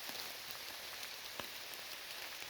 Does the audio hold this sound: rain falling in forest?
yes